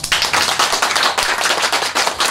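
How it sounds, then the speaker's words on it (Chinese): Warm audience applause at a Beijing overseas association's promotional symposium in the United States: steady, dense clapping from a room of attendees, fairly close and loud, without speech. "再次以给予热烈的掌声"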